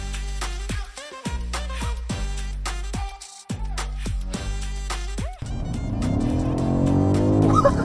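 A BMW M550i's V8 revs up hard through several quick gear changes, each shift sharply cutting the engine note. It then settles into a loud, steady roar of wind and road noise at highway speed.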